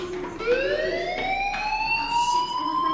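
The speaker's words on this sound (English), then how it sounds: "Hey, do you hear that fire alarm?" A fire alarm rings in the video game Life is Strange, a loud steady electronic wail that rises in pitch and holds, close and continuous for the whole stretch with no voices.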